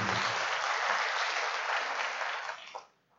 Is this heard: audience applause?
yes